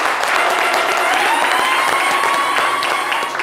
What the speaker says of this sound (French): c'est à travers des applaudissements bien nourris